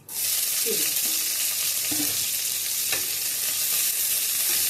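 Cut capsicum and green chilies hitting hot oil in a pan, an abrupt start into a loud, steady sizzle with a few scraping stirs of a spatula, close by and with no voices.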